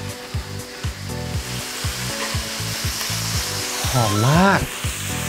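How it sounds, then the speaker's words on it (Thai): Bacon sizzles in hot oil in a pan, a steady frying hiss under background music, with a short spoken phrase near the end. "เราจะใส่น้ำมันลงไปเลยนะฮะใส่เบคอนลงไปครับ"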